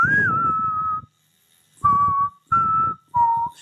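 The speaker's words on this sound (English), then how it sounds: "The fact that I can pull that whistle out of nowhere." A person whistles a Western film style tune: one long sliding note, a pause, then three shorter held notes stepping downward, clear and close.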